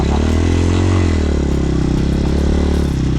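Honda Hawk motorcycle climbing a dirt hill in first gear, engine droning steadily close to the microphone with slight pitch shifts from throttle changes and faint clattering, no speech.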